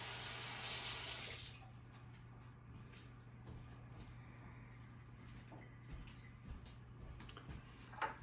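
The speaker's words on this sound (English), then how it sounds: "I'm going to rinse my hands off and come right back" Water from a kitchen tap runs loudly over hands for about a second and a half, then cuts off, leaving a quiet room with faint ticks and soft handling sounds.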